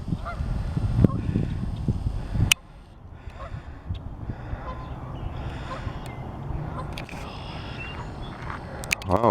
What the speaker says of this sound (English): we got us a couple of geese.